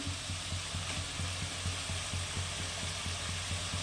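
Chicken sizzles in a pan with onion, garlic and spices for a home-style chicken biryani: a steady close frying hiss with a regular pulse of stirring scrapes throughout, and no talking.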